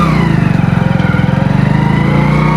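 A motorcycle engine revs up and accelerates during a U-turn practice run, with a steady, loud, close-up pulsing drone throughout.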